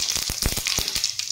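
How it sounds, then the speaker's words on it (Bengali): White cumin seeds sizzle in hot mustard oil as a loud, close, crackling hiss, broken by several short stirring knocks, with no voices. "ভাজা তেলে আমি দিয়ে দিব ফোড়নে সাদা জিরে"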